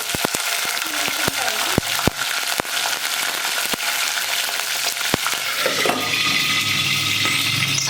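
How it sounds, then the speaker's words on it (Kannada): Mustard seeds, cumin and pepper sizzle in hot oil for moong dal khichdi tempering, a steady close frying hiss broken by sharp pops and crackles, with a louder burst of sizzling near the end. "ಎಣ್ಣೆ ಕಾದಿದೆ. ಸಾಸಿವೆ, ಜೀರಿಗೆ 1 ಸ್ಪೂನು, ಮೆಣಸು 1 ಸ್ಪೂನ್ ಹಾಕ್ಕೊಳ್ಳಿ"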